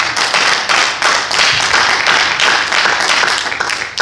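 A church congregation claps together in a strong, steady rhythm, many hands beating loudly and evenly throughout with a slight pulsing cadence, no talk over it.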